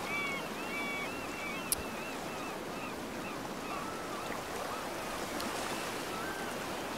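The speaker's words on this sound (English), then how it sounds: "waves rolling in" Ocean waves roll in on a shoreline in the video game Sons of the Forest, a steady, fairly faint wash of water with a single sharp tick partway through and no talking.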